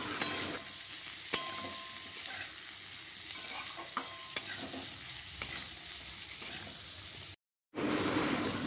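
Chopped onions frying in a pan for an egg curry give a steady close sizzle, broken by a few sharp stirring clicks and one brief dropout near the end.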